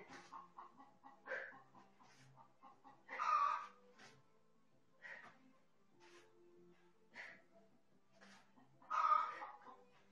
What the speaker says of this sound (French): il y a les poules qui nous encouragent là